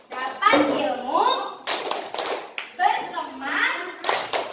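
Children in an Indonesian classroom clap in rhythm to a going-home clap chant, sharp bursts of group clapping interleaved with their sung and spoken voices.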